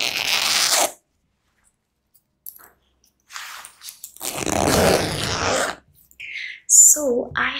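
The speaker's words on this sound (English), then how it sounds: "I am going to open the zip of my bag." A Coach bag zipper is pulled open in close, quiet bursts: a short rasping run, a pause, then a longer zip, followed by fabric rustle and a faint clink.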